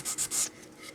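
A flexible sanding sheet rubs across a surface in three quick strokes, a bright raspy scratch that fades into a quieter, lighter scuff at the end.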